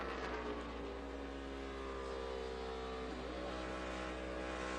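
Steady, loud in-car drone of Dale Earnhardt Jr.'s NASCAR stock car near the end of the 2012 Quicken Loans 400, its engine holding a sustained high-rpm roar with a slight pitch dip and recovery near the end.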